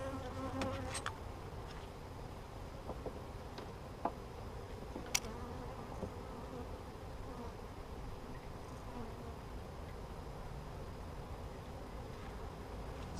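Honeybees buzz in a steady low drone during a mid-winter hive opening, with a few sharp clicks and knocks of frames early on and no voices.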